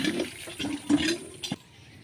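Tap water gushing in short uneven bursts, splashing close by as vegetables are rinsed, then cutting off abruptly.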